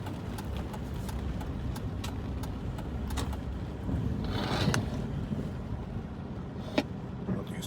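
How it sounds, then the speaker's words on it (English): Trucks drive past on a road, a faint, continuous low rumble that swells briefly in the middle as one passes closer, then fades back into steady traffic noise. "Trucks go by."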